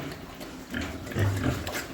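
Pigs in a pig barn grunt low and continuously, with the grunting swelling louder toward the end and no talking.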